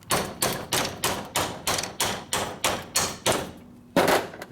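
A modified extension used as a drift is hammered to beat a piston out of a 1961 Harley Sportster XLCH Ironhead engine, about ten loud, evenly spaced metallic blows, close up.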